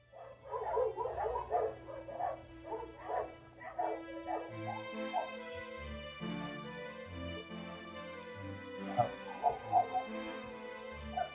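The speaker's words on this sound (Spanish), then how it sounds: "Se escuchan unos perros," Neighbors' dogs bark repeatedly in a loose rhythm, fairly close, while music with sustained notes plays underneath.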